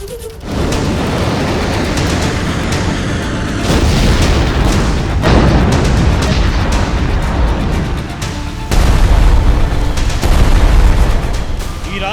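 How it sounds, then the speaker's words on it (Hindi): Bombing in the Iran-Israel war, with US and Israeli forces striking Iran, comes through as loud, sustained booming and rumbling blasts that roll into one another without a clear count. "ईरान पर अमेरिकी और इजरायली सेना की बमबारी जारी है।"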